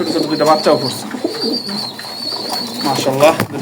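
Racing pigeons at a loft cooing in repeated soft, throaty phrases close by, with a faint steady high tone and some voices under the calls.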